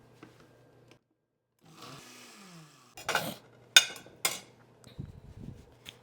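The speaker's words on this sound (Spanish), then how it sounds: "Primero voy a licuar el chile." An electric kitchen blender whirs briefly to blend chili for a homemade salsa, a short motor run followed by sharp bursts and clattering of the jar and utensils, close and loud against quiet.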